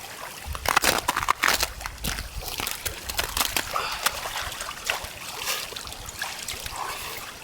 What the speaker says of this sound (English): the runoff water on the top of the glacier turns into these little tiny streams that carve themselves into the ice